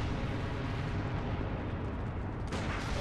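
A pistol shot fired in the Bloodborne video game booms loudly against a dense, roaring background of game sound, with a sharper burst near the end.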